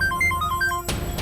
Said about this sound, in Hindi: इतनी रात को कौन फोन कर रहा है तुम्हें?